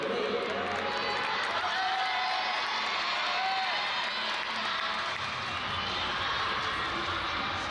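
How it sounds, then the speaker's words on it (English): Loud, steady crowd roar and cheering fills an indoor speed skating arena at the Four Continents Championships in Hachinohe, many young spectators keeping up a continuous wash of noise throughout. "a lot of young lungs in attendance, making a lot of noise on the final day of the work week"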